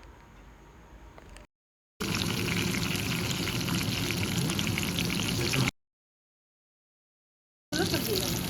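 Whole garlic cloves frying in oil in a wok with bay leaf, dried chillies and green chillies, a dense close sizzle that starts and stops abruptly in separate stretches.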